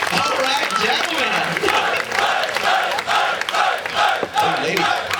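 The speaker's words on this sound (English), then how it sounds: "Round of applause for the gentlemen." A crowd at a Honolulu luau show in Hawaii cheers, whoops and claps for men performing on stage, with lively shouting voices and a host talking over the steady, fairly loud crowd noise.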